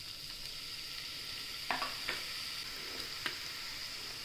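Finely chopped onion hits hot oil in a pan and sizzles steadily at low volume, with a few soft stirring clicks and taps from a utensil.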